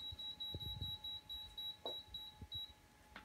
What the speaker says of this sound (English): Let's put the timer on here.